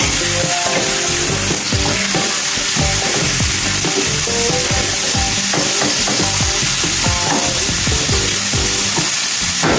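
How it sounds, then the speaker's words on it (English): Loud, continuous sizzling of onion-seasoned breakfast ingredients frying in a pan, with occasional scraping and stirring clatter throughout. "I'm gonna fry up everything"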